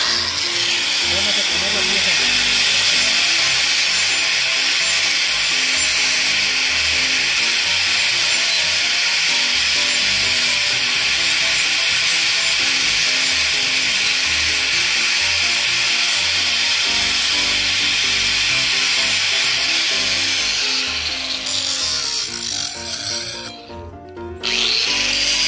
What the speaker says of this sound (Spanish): me percaté que tiene aquí un poco de soldadura que puede estorbar y la voy a esmerilar